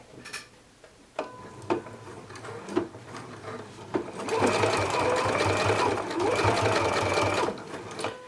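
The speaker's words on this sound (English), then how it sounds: "I am sewing this binding on at 1/4 inch seam allowance" A sewing machine stitches binding onto a huswif at a quarter-inch seam allowance, starting with a few separate clicks and short bursts and then running in longer steady whirring runs, close and fairly quiet.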